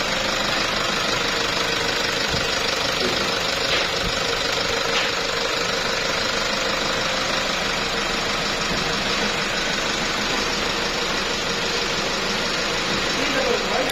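A 2019 Toyota Revo with a D4 diesel engine idles after a cranks-but-no-start repair, a steady close rumble with a faint rhythmic knock running the whole time.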